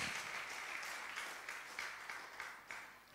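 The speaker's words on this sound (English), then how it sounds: "Can you clap your hands and stand to your feet?" A church congregation claps their hands together, a dense, steady patter of many palms that keeps going without letup and holds at a fairly even level.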